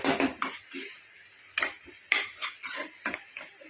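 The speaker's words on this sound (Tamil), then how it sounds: "கொஞ்சம் அப்படியே கிளறி விட்டுட்டே இருங்க" A spoon stirs sweet kesari in a pan, making a close series of metallic scrapes and clinks in an uneven rhythm, about seven distinct strokes with quiet gaps between.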